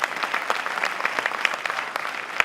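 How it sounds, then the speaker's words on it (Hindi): An audience claps hard and steadily for a couple of seconds, a dense, close burst of many hands at a motivational talk. "सपनों को पूरा करना चाहते हैं तो जोरदार तालियां खुद के लिए"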